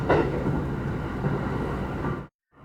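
Limited express Shirasagi train running past Yogo Station near Lake Yogo, heard as a steady, loud broadband rumble of wheels and motion that cuts off abruptly near the end, followed by a short quiet gap.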